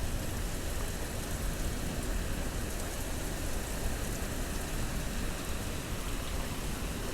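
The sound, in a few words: heavy rain pouring outdoors by the sea, played recording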